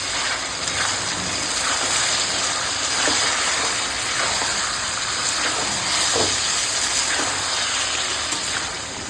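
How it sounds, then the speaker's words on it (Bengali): Fried potatoes and chicken sizzle loudly in hot oil in a pan while chicken kosha is cooked for a picnic, a dense, steady close hiss that continues without a break and carries no speech. "আমি এখন এই ভেজে রাখা আলুগুলো দিয়ে দিলাম আলুটা দিয়ে আর কষাবো"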